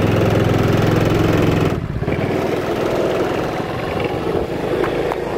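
A racing boat engine runs loud and close on a back street at night, a steady throbbing idle with a rough mechanical beat that shifts slightly partway through.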